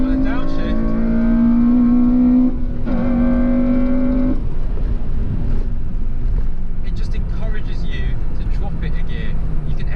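A Honda Civic FN2 Type R engine revs and drops through heel-and-toe downshifts, with two rising and falling tonal sweeps followed by steadier engine drone, loud and close from inside the cabin, while someone talks over it.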